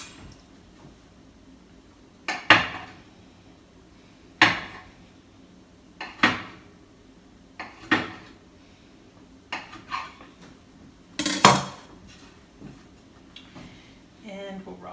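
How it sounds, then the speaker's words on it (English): Flatbread dough for garlic and caraway flatbreads chopped into six pieces, giving about six distinct knocks of a blade or scraper striking a board at steady intervals, fairly close, with no talking. "This amount of dough makes 6 flatbreads, so let's just chop it into 6."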